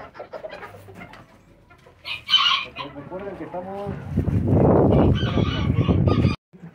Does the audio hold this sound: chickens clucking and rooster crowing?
yes